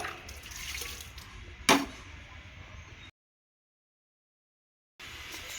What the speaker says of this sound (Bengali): আর এই যে এখন থাল ধোয়া হচ্ছে